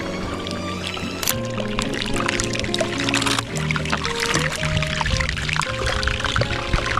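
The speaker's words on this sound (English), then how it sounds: "Oh, this iceberg's making crazy noises. It sounds like it's being deep fried." A melting iceberg in cold seawater fizzes and crackles with dense, continuous popping and sizzling, heard up close with faint water movement and occasional louder snaps.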